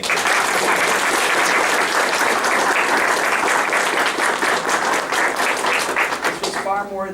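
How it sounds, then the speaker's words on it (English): A seminar audience applauds at the close of a talk on urban greening, steady dense clapping filling the room for several seconds before thinning out near the end. "I want to make sure that we just give you a round of applause"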